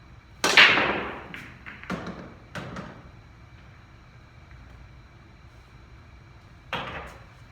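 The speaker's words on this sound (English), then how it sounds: "So that's the break shot." An 8-ball pool power break: one sharp cue-ball crack against the rack, followed by a few fainter clicks and thuds as balls scatter and drop into pockets, then a lone knock several seconds later; no talking.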